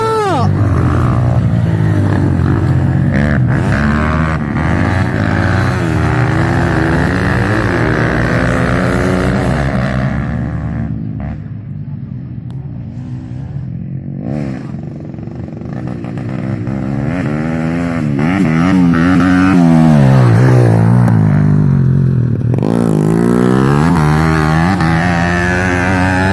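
Dirt motorcycles, a Honda CRF 150 and a Kawasaki KLX, rev hard on a steep enduro climb, engines rising and falling in pitch. A brief easing midway is followed by renewed throttle. Loud and close, with people calling out over the engines.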